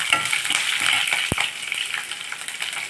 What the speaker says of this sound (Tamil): இப்போது பச்சை மிளகா போட்டுக்கலாம்